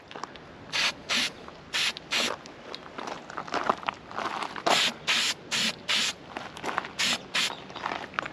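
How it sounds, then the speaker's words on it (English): Spray can bursts of metallic copper paint applied to a vintage Porsche 911 Targa part, about a dozen short hissing blasts in an uneven rhythm, close and fairly loud, with no talking. "Now I'm gonna use this metallic copper colored paint."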